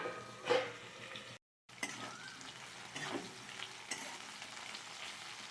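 Okra (bhindi) frying in a pan gives a soft, steady sizzle with occasional stirring scrapes and one brief dropout, fairly faint and close, with no talk.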